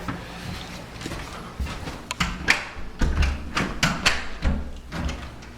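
A key fumbling in an apartment door lock, a run of faint metallic clicks and rattles, then louder knocks and clunks from the door and handle, close up and without talk.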